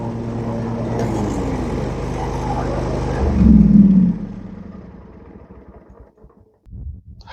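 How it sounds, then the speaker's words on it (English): A John Deere L130 lawn tractor idles steadily with a droning engine hum, then swells louder as the mower deck engages and roars briefly before settling back down and nearly cutting out. "And now let's engage the mower deck."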